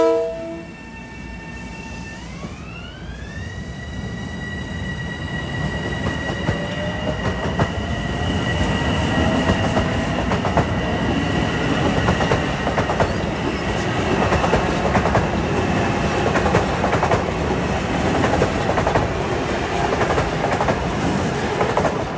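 A Long Island Rail Road train on the Garden City line sounds a rising horn, then rumbles past loud and close with continuous rolling wheel noise and clatter throughout.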